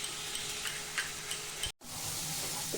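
Onion and garlic fry in a pan with a faint, steady sizzle and scattered soft ticks and crackles, broken by a brief moment of silence partway through.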